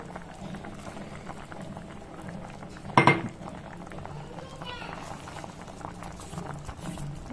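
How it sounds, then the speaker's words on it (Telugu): Curry simmering in a pot after a roasted cumin, fenugreek and curry leaf powder is stirred in, a soft low bubbling throughout, broken once by a sharp metallic clink of a utensil against the pot. "బాగా మిక్స్ చేసి కాసేపు ఉడకాలండి."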